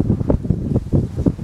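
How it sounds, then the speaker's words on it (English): Outdoor wind buffeting a lavalier microphone, low rumbling gusts that thump in uneven bursts, loud and close, with no talk. "It's so windy."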